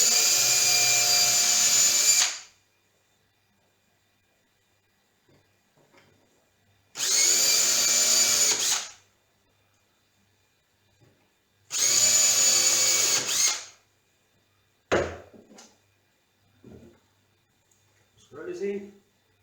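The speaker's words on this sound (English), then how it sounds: "Pre-drill a couple of holes there." A power drill pre-drills holes for drawer slides in a wardrobe cabinet build, three separate loud whirring bursts of about two seconds each with quiet gaps, followed by a few brief clicks and knocks.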